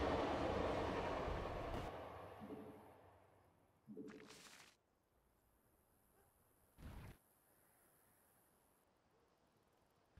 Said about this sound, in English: They've loaded up another train.